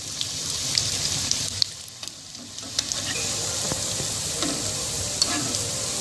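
Pakoras for kadhi crackle and sizzle steadily in hot oil, and light clinks of a spoon or slotted ladle are heard as they are stirred and turned. The sound is close and constant.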